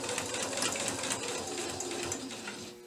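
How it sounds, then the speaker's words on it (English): Sewing machine stitching an outer seam on a paper-pieced quilt block, a steady close whirr of rapid needle strokes that runs throughout and eases slightly toward the end, with no talk. "a couple back stitches just to hold that seam"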